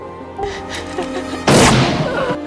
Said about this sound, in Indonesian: Robert menembak Ellison dengan pistol si penjahat hingga tewas.